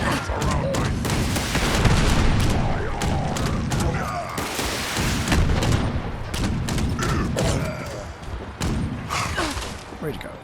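Furious Gatling Gun with faster fire rate in Fallout 76, a dense continuous rattle of rapid shots with booming thuds, loud and close throughout, with someone talking over it.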